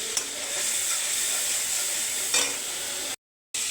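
Spices and two green chillies fry in a hot pan with a steady, close hissing sizzle, broken by a couple of brief stirring scrapes and a short silent gap near the end.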